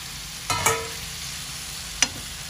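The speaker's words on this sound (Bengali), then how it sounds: "এখন আলু কড়া দিয়ে দিই।" Potatoes dropped into hot oil in a pan with spiced masala, giving two short sharp sizzling bursts over a faint steady background hiss.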